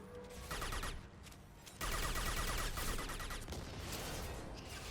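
Grenade launcher firing in Mass Effect 2 on Insanity difficulty, heard as a sustained, dense barrage of loud blasts and rattling combat noise that swells partway through.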